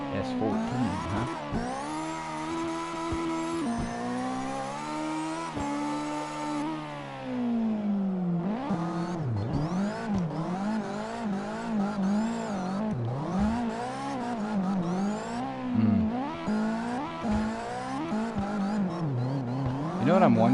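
A Nissan S14 drifting in a racing video game, its engine revving hard and rising and falling continuously, with tire squeal mixed in and voices chatting over the top throughout.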